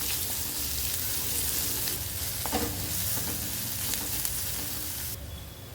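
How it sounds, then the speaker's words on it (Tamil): Finely chopped onion with curry leaves frying in oil in a pan for a curd gravy, a steady close sizzle and crackle running unbroken throughout, with no talking. "வெங்காயம் நல்லா வதங்கட்டும்"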